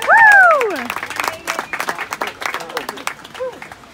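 A wedding audience applauds and whoops for a speaker. A loud cheer opens the clip, then clapping follows in a quick, uneven patter at close range.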